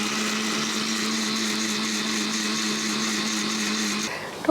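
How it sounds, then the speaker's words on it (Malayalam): A kitchen blender grinds tender coconut with milk and condensed milk, a loud steady motor whir that runs close and unbroken for several seconds before cutting off. "ഇത് നന്നായിട്ടൊന്ന് അരച്ചിട്ട് വരാം"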